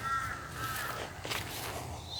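Birds call in Australian bush, with harsh crow-like caws ringing out a few times at moderate distance over faint outdoor ambience.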